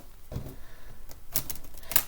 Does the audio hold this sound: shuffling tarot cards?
yes